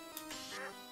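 A space duck in a video game gives a short, nasal quack, a single bright burst close up that is heard on its own and lasts under a second.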